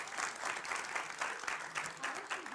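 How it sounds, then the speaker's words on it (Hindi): A studio audience at a televised Hindi debate show applauds, including a group of children clapping, with sustained dense clapping at moderate level and no voices over it. "स्पोर्ट्समैन स्पिरिट में नीले गमछे वाले भी कुछ बच्चे ताली बजा रहे हैं"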